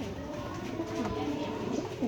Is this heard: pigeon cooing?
yes